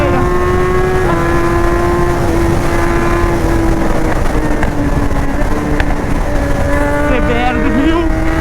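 Several motorcycles, among them a BMW S1000R and a 1000cc CBR, descend the Corupá mountain road, with loud, close engine drone and shifting revs as gears change, steady throughout the whole stretch without talk.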